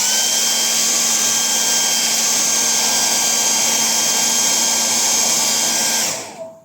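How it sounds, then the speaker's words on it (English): A hair dryer blows hot air onto the metal mesh grille of a JBL Go Bluetooth speaker under repair, giving a steady, loud whine-and-rush for about six seconds before it cuts off sharply. "I am using a hair dryer here as of now."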